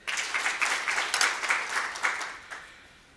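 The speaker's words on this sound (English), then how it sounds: "A round of applause for Nakitare." An audience at a university journalism mentorship event applauds for about three seconds, steady clapping near the microphone that fades out at the end.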